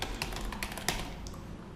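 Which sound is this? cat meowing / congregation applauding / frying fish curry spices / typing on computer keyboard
typing on computer keyboard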